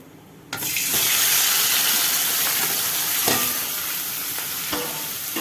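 Fennel seeds spluttering in hot oil in a pan while cooking a mutton curry, a steady close crackling sizzle that starts abruptly and runs continuously, with a few small clinks from stirring.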